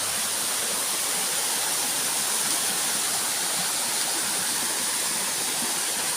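A waterfall below a reservoir roars steadily and loudly throughout, a dense, unbroken rush of falling water with no other sounds standing out.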